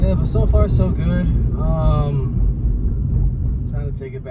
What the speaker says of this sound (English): as you can tell, the car sounds really good